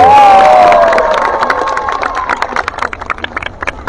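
Crowd at a political gathering in Surabaya cheering and applauding for Pak Oso, loud shouts and whistles early giving way to a scattered run of clapping.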